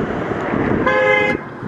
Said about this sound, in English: Yeah, rage honking again.